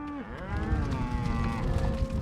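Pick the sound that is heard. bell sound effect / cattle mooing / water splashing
cattle mooing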